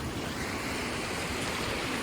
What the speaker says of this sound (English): This water here like it's swirling around a little bit.